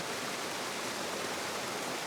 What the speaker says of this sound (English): Absolutely beautiful little waterfall this.